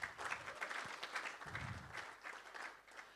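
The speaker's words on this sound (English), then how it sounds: "So a round of applause for them." An audience applauding music exam candidates, faint, distant patter of clapping in a room, continuing steadily for a few seconds.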